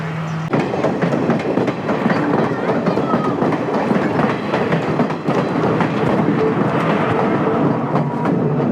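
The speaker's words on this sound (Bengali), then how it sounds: "এইমাত্র ট্রেনটা চলে গেল" A train rolls past loud and close over the Nine Arch Bridge at Ella, Sri Lanka, its wheels clattering in a steady rhythmic clack with a continuous heavy rumble throughout.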